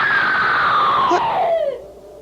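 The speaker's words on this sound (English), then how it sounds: "Someone screamed." A scream in an old-time radio mystery drama, one long high-pitched wail that slides steadily downward and cuts off after about two seconds, loud and alone.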